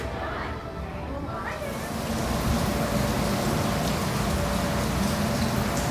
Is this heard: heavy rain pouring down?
yes